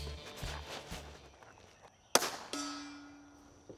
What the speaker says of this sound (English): these subsonic rounds from Aguila are pretty neat. Let's start off with the Super Sniper Subsonic